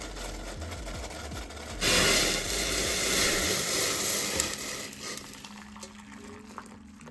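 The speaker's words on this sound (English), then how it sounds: "I want the butter to boil, then I start mixing." Butter boils in a pot, making a steady bubbling hiss that swells after a scraping start and then fades toward the end. The sound is close and there is no talk.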